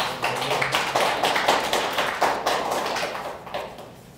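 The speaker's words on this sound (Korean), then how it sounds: "하나님께 영광의 박수를" A church congregation claps in praise during a Christmas worship service, a loud, dense spread of hand claps with a few sharper strikes that thins out toward the end, with no voices over it.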